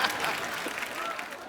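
A studio audience on a comedy talk show breaks into loud, dense, sustained applause that fills the whole moment without letup.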